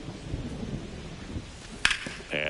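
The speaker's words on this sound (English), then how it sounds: "This rain is not letting up." Rain and a sharp thunder crack in a rainy MLB The Show 25 baseball game, with low rumbling and steady rain texture, then a single loud crack near the end, with no voices heard.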